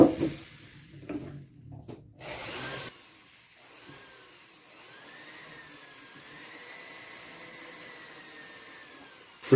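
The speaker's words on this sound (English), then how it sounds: "This final polish is what's really gonna get rid of those micro scratches." Silver is given a final hand-held power polish to remove micro scratches, a steady hissing, whirring buffing drone running for most of the stretch after a few brief bumps and handling knocks at the start.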